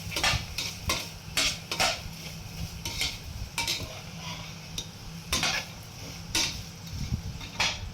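Ingredients for fried rice, seasoned with salt, are stir-fried in a pan, with repeated scraping and tapping of a metal spatula against the pan in an irregular rhythm over a low, steady sizzle. The sound is close and there is no talking.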